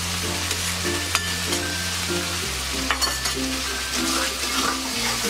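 Beaten sour yogurt going into chicken biryani masala frying in a pot, a steady sizzle with soft stirring and scraping running throughout, close and alone with no talk.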